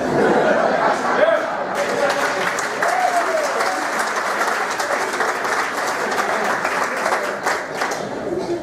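A comedy club audience breaks into sustained applause, dense clapping with scattered chuckles and chatter, loud and steady throughout before easing slightly at the end.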